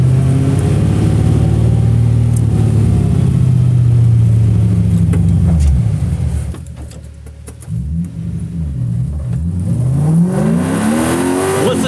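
A Toyota Corolla AE86 with a swapped-in 1UZ V8 makes about 220 lb-ft of torque in a 2,100-pound car, and it revs hard on track. The engine roars loudly, dips briefly at mid-clip, then climbs again in rising pitch sweeps.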